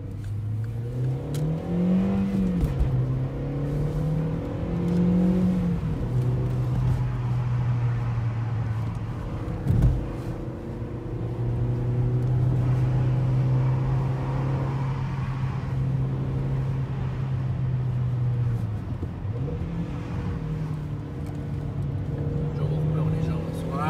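A Volkswagen Polo 5 with a 1.4-litre 85 hp naturally aspirated engine and stock exhaust, heard while driving: a steady, close engine hum that rises and falls with revs, under occasional talk.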